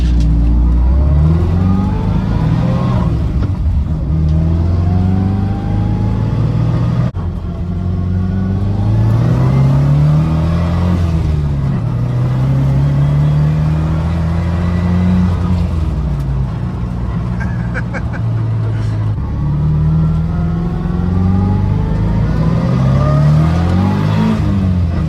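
An EcoTec-swapped Nissan S14 pulls hard on the street, the engine climbing through repeated loud revving sweeps and gear changes, close and continuous with no voices.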